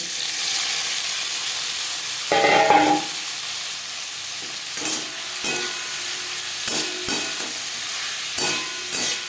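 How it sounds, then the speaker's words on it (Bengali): Chopped onion and tomato hit hot oil in a wok already used for frying tilapia, giving a loud burst of sizzling, then a steady crackle broken by the scrape and clank of stirring. "মাছ ভেজে নেওয়া কড়াইতে আবারও তেল দিয়েছি দিয়ে দেবো পেঁয়াজ কুচি আর টমেটো"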